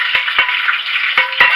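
Rice sizzles and crackles steadily in a hot pan, a dense continuous hiss broken by a few sharp stirring clicks and scrapes, close and fairly loud with no talking.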